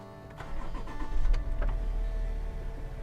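A Land Rover L405 Range Rover starts from its push-button start-stop system: a short cranking whir catches into a deep engine rumble that settles into a steady idle, heard close from inside the cabin.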